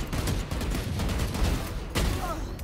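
Rapid Vandal gunfire in Valorant during a Deathmatch, shots rattling continuously while the player strafes side to side, dense and close with a brief louder burst near the end.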